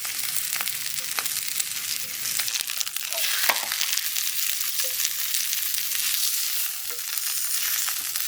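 Filet mignon steak with pepper frying in a pan at a winter cave campsite, a steady close sizzle with scattered crackles and pops throughout, no voices.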